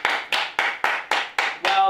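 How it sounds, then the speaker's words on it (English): Seven distinct hand claps at a kids' tennis lesson, evenly spaced and close, with a voice briefly breaking in at the end. "Give yourself a big round of applause."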